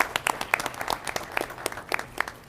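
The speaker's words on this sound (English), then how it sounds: "I think it deserves another round of applause." A small group applauds at a school board meeting, individual claps clearly separable in a light, uneven patter that stays fairly close and moderately loud.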